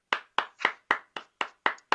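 A lone person claps slowly and evenly, eight distinct claps spaced about a quarter second apart, close and crisp with silence between them.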